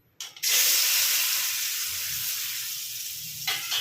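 Amla (Indian gooseberry) hits hot oil with a sudden loud sizzle that holds as a steady, close, broad hiss of frying for several seconds, with a brief clatter at the start and the end.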